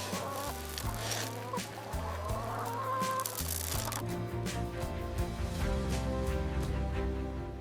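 A flock of hill chickens clucks at feeding time, with overlapping close clucks and squawks over a low musical drone and busy scratching and shuffling sounds.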